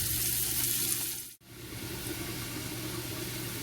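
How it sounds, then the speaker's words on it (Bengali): Chopped onions frying in a pan until brown for a tuna kabab polau, a steady close sizzle that drops out briefly for a moment, then resumes evenly. "কাটা পেঁয়াজগুলো আমি এখন ব্রাউন করে ভাজবো।"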